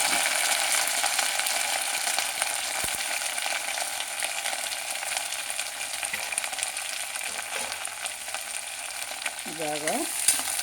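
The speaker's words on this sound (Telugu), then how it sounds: "ఉల్లిపాయలు ఇవన్నీ వేసుకొని వేయించడమే కాబట్టి అన్నీ వేసేస్తున్నాను." Onions and vegetables frying in a pan for basmati rice kichidi, a steady, dense sizzle that holds level throughout at close range, with a brief faint squeak near the end and no speech.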